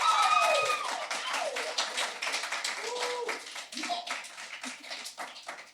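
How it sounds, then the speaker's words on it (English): A small group at a live podcast taping claps their hands to vote, scattered uneven claps with a few voices mixed in, strongest at the start and thinning out. "Clap your hands"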